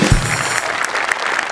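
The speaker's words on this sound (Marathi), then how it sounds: "मी उभं राहून टाळ्या वाजवू इच्छितो या क्षणी" Applause from a studio audience at a Marathi comedy show, a dense burst of clapping that starts loud and carries on steadily close by, with no talk over it.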